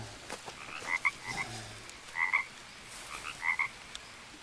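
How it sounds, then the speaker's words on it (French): Toads croak in the video game Green Hell, giving several short, bright calls in separate bursts at a moderate distance over quiet jungle ambience. "Il y a des crapauds"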